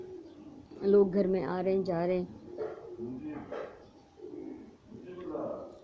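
Pigeons coo softly around a village house in the early morning, a low repeated burbling that sits under a man's continuous nearby speech.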